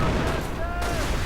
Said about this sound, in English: artillery now flying in at the medic bunker